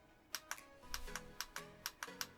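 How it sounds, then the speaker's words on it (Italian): Button clicks on a Simagic FX Pro carbon fibre sim-racing steering wheel, about ten sharp, faint, close-up ticks at irregular intervals, with no voices. "Vi faccio vedere subito il click."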